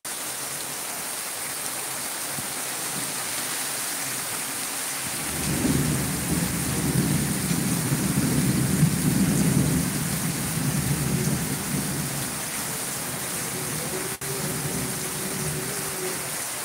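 Heavy rain pours steadily over Rajshahi, and a deep rolling rumble of thunder swells midway through before fading back into the constant wash of rainfall; no voices.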